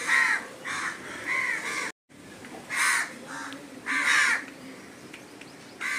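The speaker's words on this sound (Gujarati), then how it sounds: "પણ અમારી આ કાગડા બહુ આવે છે" Several crows caw outdoors in bursts of repeated harsh calls, loud and close, with short pauses between volleys and a brief silent gap.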